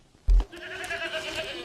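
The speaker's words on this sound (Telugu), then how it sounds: "డాడీ గొర్రెలు వచ్చారు." Sheep on a farm bleat in a short, wavering call with a few repeated pulses, close by, after a brief low thump at the start; no one talks.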